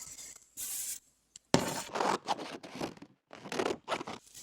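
Fabric scissors snipping through tinfoil, a few separate crisp cutting bursts with short pauses between, close and fairly quiet.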